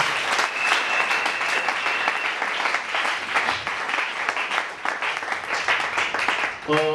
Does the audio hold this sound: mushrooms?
no